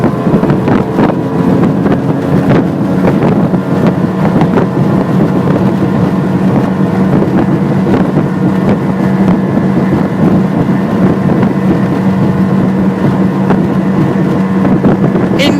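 Quintrex 510 Cruiseabout motorboat running at around 50 km/h under 4,000 rpm in a 25-knot wind: a loud, constant engine drone and hull rush buried in heavy buffeting wind noise on the microphone, with no speech.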